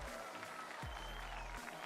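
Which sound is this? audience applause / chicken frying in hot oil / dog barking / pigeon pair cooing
audience applause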